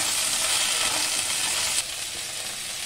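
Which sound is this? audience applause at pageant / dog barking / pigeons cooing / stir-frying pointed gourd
stir-frying pointed gourd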